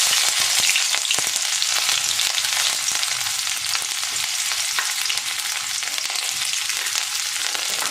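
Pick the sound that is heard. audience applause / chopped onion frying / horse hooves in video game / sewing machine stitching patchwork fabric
chopped onion frying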